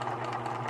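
A sewing machine stitching slowly through the thick seam of an adult pair of jeans, giving a steady low motor hum with a faint rhythmic needle chatter, close and fairly quiet.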